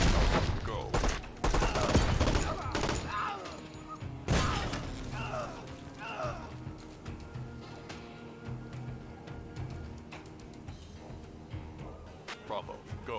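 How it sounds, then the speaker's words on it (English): A grenade launcher blasts amid rapid gunfire in the tactical video game Door Kickers, with heavy booms and crackling volleys early, then scattered shots and clattering mechanisms fading down. "So actually going to use a grenade launcher to take that out."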